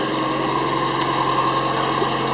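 A 2007 Subaru Impreza 2.5 engine idles just after a head gasket repair, running with a steady, even hum and no voices.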